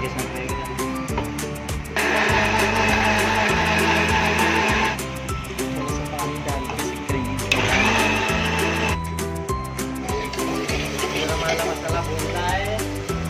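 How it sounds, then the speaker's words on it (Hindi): An electric mixer-grinder whirs loudly, grinding tomatoes and a few cashews into curry masala, running in bursts that rise and fall in pitch across the stretch with brief pauses between runs. "अभी हम करेंगे ग्राइंड"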